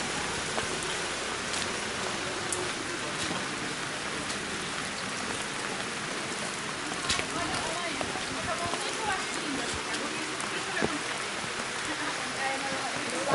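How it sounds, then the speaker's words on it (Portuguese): Steady rain hisses outdoors on a summer day in Campos do Jordão, growing heavier as a dense wash of drops patters on surfaces throughout. "olha a chuva aumentando"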